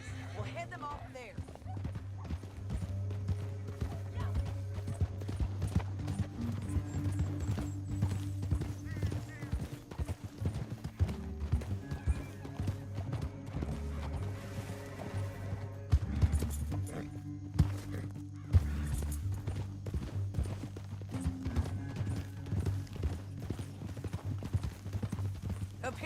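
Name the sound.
horses trotting, hooves clip-clopping, in Red Dead Redemption 2 video game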